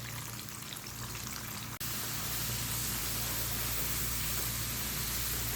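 Masala french fries coated with rice flour sizzle crisply in hot oil, a dense continuous hiss of frying that briefly cuts out and then returns louder and steady, with no voices.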